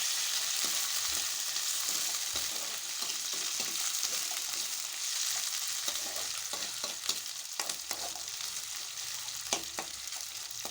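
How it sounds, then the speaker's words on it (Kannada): Thinly sliced raw potatoes fry in hot oil with a steady, dense sizzle, broken by occasional crackles and stirring clinks, and no voices. "ಹಿಂಗತೆ ಹೆಚ್ಚಿ ಎಣ್ಣೆ ಕುದಿ ಮಟ್ಟ ಕುದಿಸ್ಬೇಕು"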